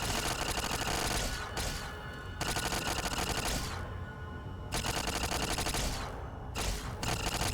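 A robot in Fallout New Vegas fires long bursts of rapid automatic gunfire, loud and close, broken by brief pauses between volleys.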